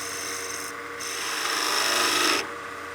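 Turning tool riding the bevel on a wood lathe, lightly refining the surface of a German smoker project: a steady scraping, rasping cut that swells and fades in short passes, close and alone.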